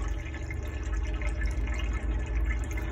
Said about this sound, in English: just come to this tap and just pull the water through